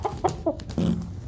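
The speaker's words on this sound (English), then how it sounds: "I quite love these little chickens myself" Small chickens cluck in a short series of close, soft calls, several quick clucks followed by a longer, fuller call, with no talking.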